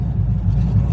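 A Chevrolet Colorado truck engine runs as its RPM flares high, a loud, steady, close-up low rumble filling the whole brief moment without talk.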